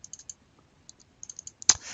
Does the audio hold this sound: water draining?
no